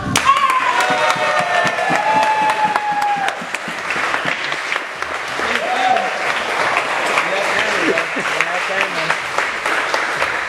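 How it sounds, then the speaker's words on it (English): A crowd gives a round of applause for Patrick at a martial arts gym during a belt promotion, with dense clapping and some cheering lasting several seconds and voices talking over and after it. "we're just gonna give a round of applause for Patrick"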